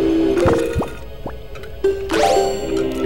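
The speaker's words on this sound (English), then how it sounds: "Put this bubble out with your Deku Leaf." In The Legend of Zelda: The Wind Waker, a Deku Leaf gust puts out a bubble with a few bright, sweeping game effects and watery plops over a continuous background hum.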